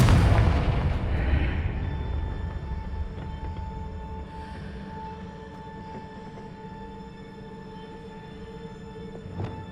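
Blasting-spell explosions in the Hogwarts Legacy video game: a loud, booming burst at the start that decays into a lingering low rumble, with a sharp smaller crack near the end.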